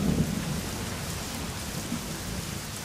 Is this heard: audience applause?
no